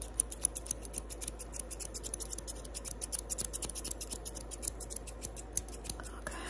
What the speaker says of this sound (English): now we're gonna do both scissors